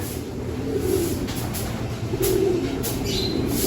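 Pigeons coo in a loft and aviary, low soft throaty calls repeating under a steady background hum, with a few brief higher chirps.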